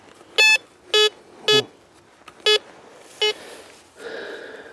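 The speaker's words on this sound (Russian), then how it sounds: "Вот здесь сигнал хороший." Bounty Hunter Quick Draw Pro metal detector gives five short, clean electronic beeps at irregular intervals, close and clear, followed by a softer scraping sound.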